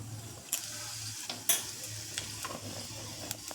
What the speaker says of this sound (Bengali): এবার তেলটা গরম হওয়ার পরে আমি এর মধ্যে একটু কালো জিরে ফোড়ন দেব